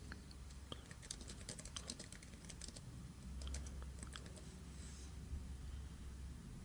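Rapid clicking keystrokes on a computer keyboard, fairly close and steady, as details are entered into a WordPress installation form, with a low background hum and no talking.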